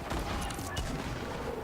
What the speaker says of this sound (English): lots of gunfire going on at the very bottom of that build off there